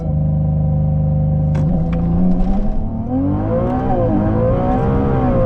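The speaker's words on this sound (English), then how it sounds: "Now, let's go ahead and do a launch control because the acceleration from a standstill is truly, truly impressive." A 2023 Ferrari 296 GTB revs loudly at standstill under launch control, then surges away in full acceleration, the engine note climbing steadily through rising gears, close and continuous with no talking.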